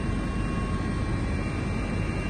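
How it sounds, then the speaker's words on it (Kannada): Helicopter flying over the ten-lane Bengaluru–Mysuru national highway during an aerial inspection; a steady, loud rotor and engine drone holds without a break throughout, with no voices. "ಕೇಂದ್ರ ಸಾರಿಗೆ ಸಚಿವ ನಿತಿನ್ ಗಡ್ಕರಿ ಹೆಲಿಕಾಪ್ಟರ್ ಮೂಲಕ ಪರಿಶೀಲಿಸುತ್ತಾ ಇದ್ದಾರೆ"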